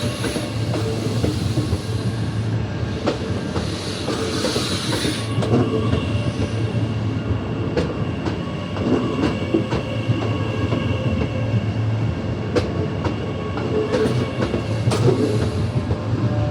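A Brisbane Gold Coast Line stopping passenger train rumbles steadily through a station, with broadband rolling noise, faint rail clicks and a high wheel whine, no voices.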